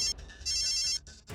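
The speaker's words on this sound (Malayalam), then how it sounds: "റിംഗ് ആവുന്നുണ്ട്. ദേ പിടിച്ചേ." A telephone rings in short electronic bursts: two brisk tone pulses separated by brief gaps, clear and near, with no talk over them.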